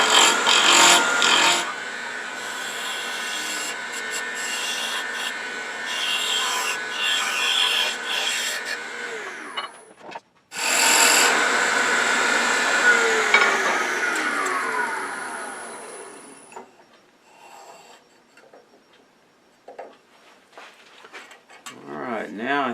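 Wood turning on a lathe spun up to around 2,500 rpm, with a loud continuous scraping and rushing of the cutting tool against the spinning blank, a brief break near the middle, then fading to quieter rubbing.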